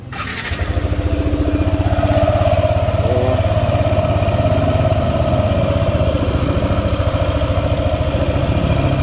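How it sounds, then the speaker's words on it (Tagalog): A Yamaha NMAX scooter engine starts and settles into a loud, steady, rapid idle close by, its pulsing rumble holding without pause. "So check natin, pandarin natin yung motor."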